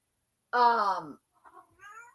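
A cat gives one loud, drawn-out meow close by, followed by a couple of softer, shorter chirping mews.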